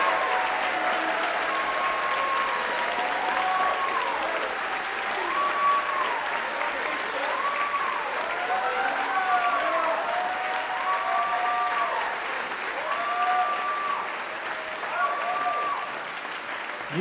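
A concert audience at a university band's fall concert gives long, sustained applause for music educators, a thick, even wash of clapping lasting well over fifteen seconds, with a sustained musical tone heard faintly beneath it.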